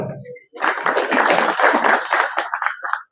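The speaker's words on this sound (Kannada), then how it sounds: "ಪೊಲೀಸ್ ಇಲಾಖೆಗೆ ನನ್ನ ಕಡೆಯಿಂದ ಒಂದು ಚಪ್ಪಾಳೆ" A crowd at a preparatory meeting for a temple chariot festival breaks into applause for the police department. It is a burst of many hands clapping that starts abruptly, holds for about two and a half seconds, then tapers and stops.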